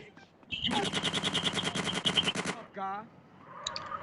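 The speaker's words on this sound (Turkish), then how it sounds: "adamlar pompalarıyla Uzi ile geliyor" An Uzi fires a long rapid burst in GTA San Andreas, a dense rattle lasting about two seconds, then a single shotgun-like blast follows with a metallic echo.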